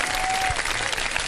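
A studio audience bursts into brief, dense clapping for a line of poetry on a Pakistani TV show, filling the room loudly and evenly for just over a second.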